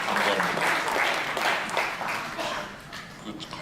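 A crowd at a foundation anniversary seminar applauds in a steady patter of clapping that gradually fades toward the end.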